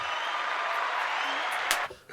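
Brief round of applause from a small podcast studio audience, a steady patter of clapping that holds for a couple of seconds before tapering off abruptly.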